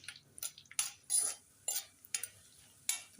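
Dried red chillies and coriander seeds hit hot oil in a pan while a utensil scrapes and stirs, giving scattered quiet crackles and clinks in short bursts, close up, with no talking.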